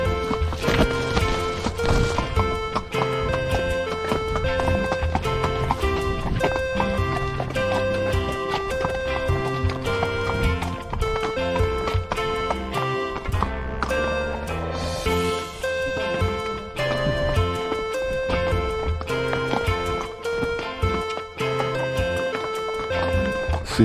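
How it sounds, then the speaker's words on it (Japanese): Horse hooves clip-clopping on cobblestones during a horse-riding outing near Mount Fuji, a steady rhythmic clatter heard under loud, continuous music. "石畳でですね、パカパカいう蹄の響きですね"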